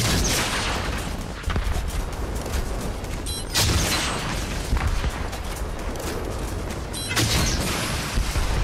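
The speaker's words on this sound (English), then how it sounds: "Just let the rockets fly" Rockets fire and explode in a Fortnite build fight, loud repeated blasts over constant dense game noise, with no talk.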